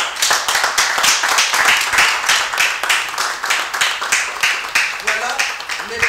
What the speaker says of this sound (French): on doit s'applaudir les petits missionnaires